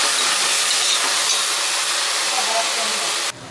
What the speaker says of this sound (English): Let's saute this for around 2 minutes till the raw smell of field gram goes.